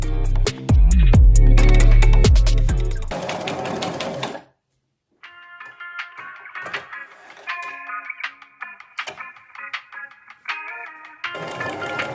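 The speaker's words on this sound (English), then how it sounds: "I am sewing with a ½ inch seam allowance throughout the whole video" A sewing machine stitches flannel and fleece for a small-animal snuggle sack, with a loud, fast run of stitching, a pause, and then intermittent, lighter mechanical ticks and clicks up close before the stitching starts again.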